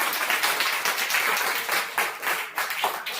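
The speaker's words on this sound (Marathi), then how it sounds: "सिद्दीक साठी सर्वांनी टाळ्या वाजवा" Classroom of students clapping together for a classmate, a dense, steady patter of many hands lasting a few seconds with no talk over it.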